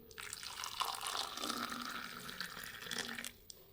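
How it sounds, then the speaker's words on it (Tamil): Boiled water pours steadily into a large glass for a few seconds, close by and fairly quiet, then stops with a small drip. "இப்போ நம்ம வந்து கொதிக்க வச்ச தண்ணியை எடுத்து ஊற்றிக்கலாம்"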